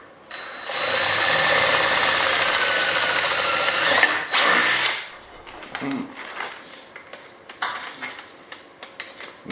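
A power drill runs in one sustained, loud whirring burst as it widens a hole, then stops, and a run of scattered clinks and handling knocks follows.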